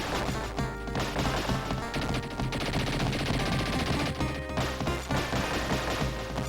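Rapid gunfire from enemies crackles through a busy video game scene in Teenage Mutant Ninja Turtles: The Hyperstone Heist, steady bursts mixed with crashes and game music.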